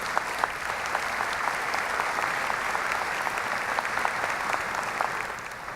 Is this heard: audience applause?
yes